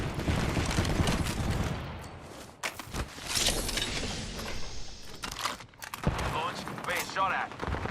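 Bursts of gunfire in the battle royale game Apex Legends, with sharp rapid shots clustered over a dense, busy game mix and voices talking throughout.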